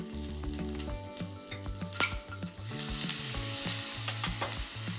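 Canned tuna hits a frying pan of oiled green peppers over medium heat, bursting into a loud sizzle that swells and settles under brief stirring knocks, with no speech.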